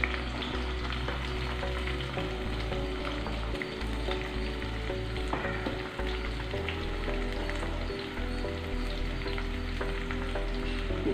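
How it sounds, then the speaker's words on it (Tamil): Curry leaves and slit green chillies fry in hot oil for a prawn brinjal kurma, a steady close crackling sizzle with occasional stirring scrapes and no talking. "இப்போ இது வந்து கொஞ்சம் நல்லாவே ப்ரௌன் கலராக ஆகிற வரைக்கும் நம்ம ஃப்ரை பண்ணணும்."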